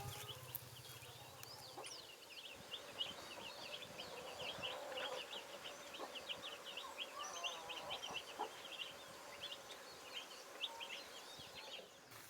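Free-range chickens on a diverse smallholding farm cluck and call in scattered bursts over a quiet outdoor background, with faint insect buzzing and no talk.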